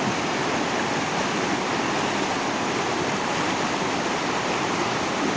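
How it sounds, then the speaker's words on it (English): A waterfall roars as a steady, loud, broadband rush of water with no change in level and no other sounds. "aware of this roar of waterfalls that we have here"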